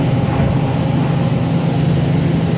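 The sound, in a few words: Toyoda FA-450II horizontal machining center drilling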